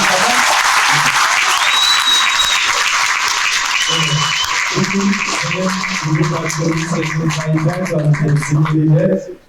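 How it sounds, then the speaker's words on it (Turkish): Loud, sustained applause from a crowd at an AK Parti political rally in Büyükçekmece, continuous dense clapping with tonal music or chanting rising underneath, fading out abruptly at the end. "Bir alkış daha alalım."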